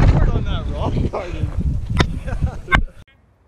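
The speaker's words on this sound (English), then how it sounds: "God, that wind is crazy." Strong gusting wind buffets the microphone during a mountain bike ride, a loud rumbling roar that runs under excited shouting and cuts off abruptly near the end.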